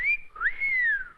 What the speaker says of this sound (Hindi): पुलिस वाली को देखकर सीटी बजाते हो?